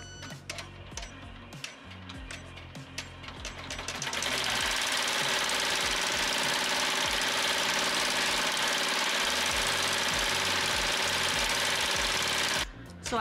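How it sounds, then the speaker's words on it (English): An embroidery machine runs a placement stitch on a sweatshirt appliqué with glitter heat transfer vinyl: a loud, steady, rapid mechanical whirring and tapping that starts a few seconds in, continues unbroken, and cuts off just before the end. "right now I'm going to go ahead and push start, and it's going to do the placement stitch."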